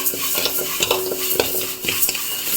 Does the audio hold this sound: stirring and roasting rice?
yes